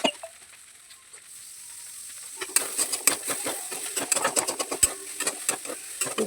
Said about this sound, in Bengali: পেস্টটা দিয়ে ভালো করে নাড়াচাড়া করে নিচ্ছি।